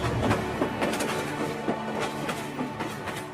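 A cartoon train runs steadily on its rails with a loud, continuous rumble and a rhythmic clickety-clack of wheels throughout; no voices.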